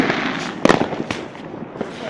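Firecrackers go off outdoors on New Year, with several sharp loud bangs among crackling and a busy noisy background. Voices are faintly audible around the blasts.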